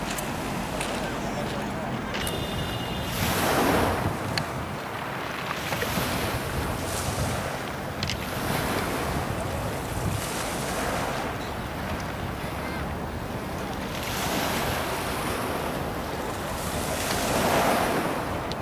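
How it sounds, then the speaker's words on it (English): Mediterranean waves break on the rocky beach at Nice on a cool, cloudy evening, surging and receding in slow swells under gusty wind noise, with a voice talking over them. "There's Elena sitting on the beach in Nice, the Mediterranean, kind of cloudy."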